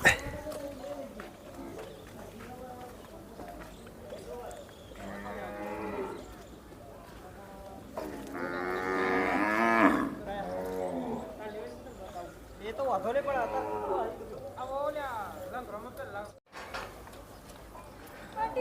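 Cows moo repeatedly, long low calls rising and falling, some close and loud, amid a busy cowshed with people talking.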